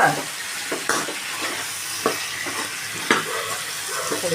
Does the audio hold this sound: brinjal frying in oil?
yes